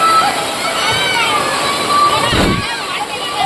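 Rushing floodwater after heavy rain in Vagaikulam, Tirunelveli district, pours steadily and loudly close by, with a brief surge of splashing partway through, and a person talks over the flow.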